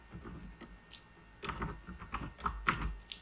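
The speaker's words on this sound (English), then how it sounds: "Now I am going to press the enter." Keys clack on a computer keyboard in short irregular bursts, quiet and close, with a few firmer presses toward the end and no speech.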